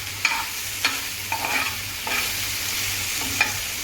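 Garlic mushrooms with tomato ketchup are stirred in a pan, a utensil scraping the surface in a series of distinct strokes over a faint, steady sizzle.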